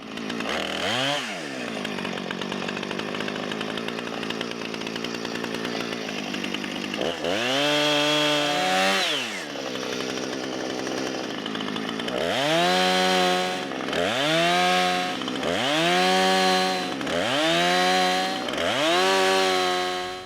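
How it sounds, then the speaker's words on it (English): Chainsaw cutting up a felled tree held off the ground for firewood, the engine revving up and dropping back repeatedly in a rhythmic series of loud, close bursts over a continuous idle, with no talking. "cut the tree up off the ground so you're not getting that chain in the dirt"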